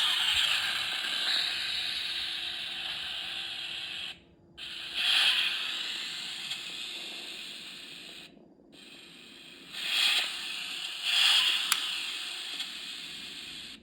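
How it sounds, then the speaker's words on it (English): A 1/32 scale Honda Civic toy car's electronic door sound plays in bursts from a small speaker, with mechanical clicks and cut-offs between repeats, close and fairly loud. "you have to open one door at a time to hear both sounds"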